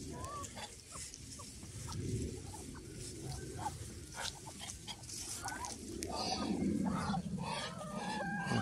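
Hens cluck and murmur in scattered bursts at moderate distance, with outdoor background noise and occasional rustling.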